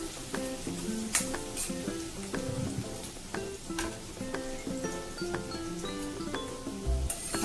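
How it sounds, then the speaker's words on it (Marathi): Onion being sautéed and stirred in a pan, with a steady close sizzle broken by repeated scraping strokes of the spoon against the pan throughout. "व्यवस्थित आपल्याला कांदा परतून घ्यायचा आहे।"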